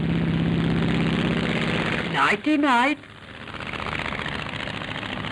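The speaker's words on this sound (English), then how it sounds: "Not even the gentle scraping of a skyscraper can disturb the soothing lullaby of the plane's engines." Propeller engines of an airliner drone steadily through flight, a loud low hum that dips briefly while a voice speaks over it, then resumes.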